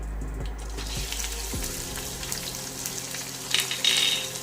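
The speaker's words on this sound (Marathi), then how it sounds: "कापलेला कांदा छान असा परतू द्या, थोडंसं लालसर होईपर्यंत कांदा परतवून घ्या छानपैकी" Chopped onion sautéing in a pan for a spicy bitter-gourd bhaji hisses steadily and closely, with a few faint utensil scrapes and a brief louder rustle of stirring toward the end.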